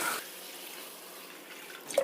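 Water is poured onto washed dosa rice set to soak, making a soft, steady rushing hiss that rises slightly at the end, with no talking.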